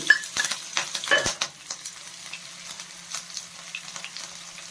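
Chopped green chilies and cumin sizzle in hot oil for potato masala bonda, a steady soft crackle with a few sharp utensil clinks and stirring scrapes near the start.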